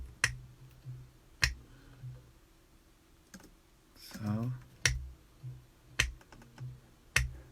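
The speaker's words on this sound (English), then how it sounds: "those are my finger snaps" Single finger snaps, sharp and close, repeating at irregular intervals about a second apart, with a brief spoken word and some murmuring between them during an Instagram live.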